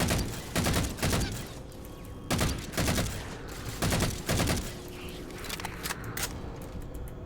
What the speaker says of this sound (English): Could you kindly stop shooting at me?